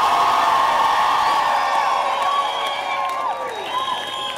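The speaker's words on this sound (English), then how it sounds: "Round of applause for the immigrants community that makes New York City" A crowd at the Women's March in New York City, applause and cheering blending into a dense, steady roar with whistles and whoops, moderately loud and easing slightly toward the end.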